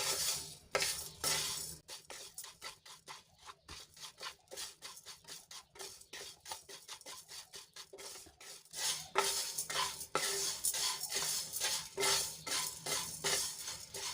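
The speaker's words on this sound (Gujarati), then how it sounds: "તો ધીમા તાપે આપણે આ મસાલાને શેકી લઈશું" Spices for buttermilk masala dry-roasted over a low flame, stirred with a utensil scraping and clinking against the pan in a steady, busy rhythm, close and moderately loud.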